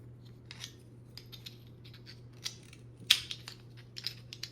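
Small parts of a magnetic phone mount are handled as its middle connector piece is loosened, giving scattered light clicks and a couple of sharper snaps over a steady low hum, fairly close and quiet.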